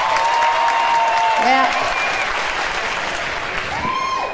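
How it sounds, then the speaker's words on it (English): A stand-up comedy audience breaks into loud, sustained clapping and cheering, with a brief spoken word at the start and a voice returning near the end. "Applaud the married girls. Applaud real big."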